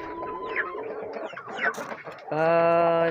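Chickens kept in a simple coop cluck in short, close bursts, followed by a sustained, louder drawn-out call near the end.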